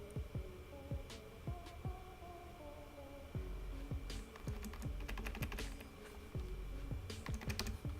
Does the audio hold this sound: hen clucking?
no